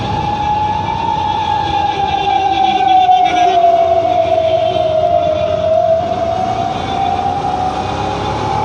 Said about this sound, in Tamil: ஆம்புலன்ஸ் வருது.